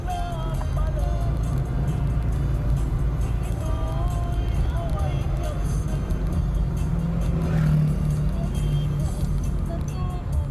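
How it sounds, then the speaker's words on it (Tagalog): Large vehicles passing on a rural Philippine road, Baler-Casiguran Road in Aurora Province, heard as a loud, continuous engine rumble and road roar with a passing swell near the end, while someone talks over it. "Sa laki ng mga sasakyan na dumadaan."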